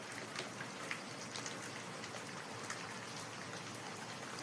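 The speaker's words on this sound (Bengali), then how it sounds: "এত বৃষ্টি হচ্ছে এখানে, খুব প্রচণ্ড বৃষ্টি হচ্ছে ছাদে।" Heavy rain drums on a rooftop in a steady, dense hiss of countless drops. The sound is even and unbroken throughout, moderately loud, with no voices.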